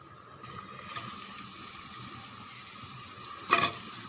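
Chicken pieces go into oil-separated masala in a pressure cooker and fry with a steady close sizzle, joined by a brief burst of stirring or clatter near the end.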